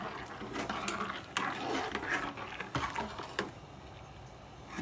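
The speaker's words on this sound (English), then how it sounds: "now we're going to stir our rice so it can start boiling" Scraping and light clicking as a utensil stirs in a pot, irregular strokes against a soft background, no talking.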